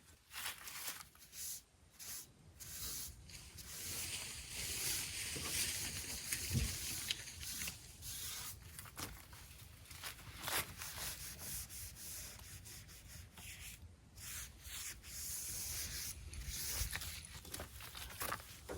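Soft repeated rubbing and wiping strokes as a van surface is cleaned with rubbing alcohol before applying adhesive, quiet and close, with brief pauses between passes.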